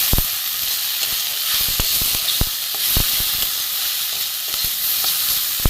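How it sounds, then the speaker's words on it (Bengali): Vegetable peels fry in oil with chilli, cumin and coriander powder, giving a loud, continuous sizzling hiss broken by frequent sharp crackles and pops, with no voices. "একটু ভাজা হোক।"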